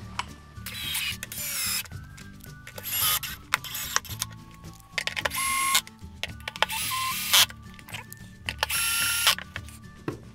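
Screws are driven and tightened through a metal bracket while a TOTO Neorest LS toilet is installed, in repeated bursts of ratcheting, whirring mechanical clicks separated by short pauses, close and without speech.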